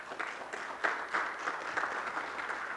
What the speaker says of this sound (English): give yourself one more round of applause